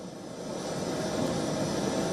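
An airplane carrying India's Prime Minister at Ben Gurion Airport gives off a steady engine roar and whine that swells slightly, fairly close and continuous, with no speech.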